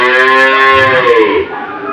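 One close, loud bellow from a dairy cow on a Dinajpur, Bangladesh cattle farm, a rich sustained moo of over a second that trails off into faint background.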